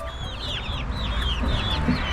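Backyard chickens clucking and squawking steadily, several birds close by with overlapping calls over a low outdoor rumble.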